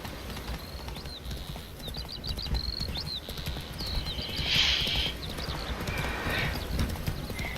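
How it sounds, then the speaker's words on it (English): In the video game Witcher 3, a horse gallops with steady, rapid clip-clopping hooves that stay loud and continuous throughout, with a whinny-like call rising partway through and no talking. "even though Roach, the horse, is at full gallop"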